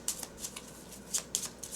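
A deck of Marvel Champions cards being shuffled, with quick papery riffles and soft snaps in short bursts, close and alone.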